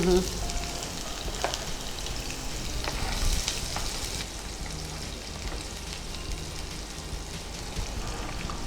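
Chopped onion sizzles in hot oil in a home kitchen pan, giving a steady, dense crackle that runs throughout at close range, with a voice faintly present at times.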